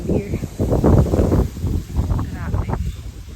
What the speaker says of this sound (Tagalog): Lakas ang hangin here.